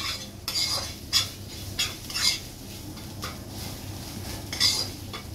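A spoon stirs moong dal with fried fish head in a pot, making a run of irregular metallic scrapes and clinks against the pot over a soft low background.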